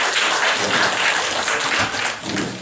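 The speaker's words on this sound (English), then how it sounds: "Let's give the moderator, Michelle, and all the panel a big round of applause." Close, dense round of audience applause at a civic leadership forum for the moderator and panel, steady and loud throughout before easing slightly near the end.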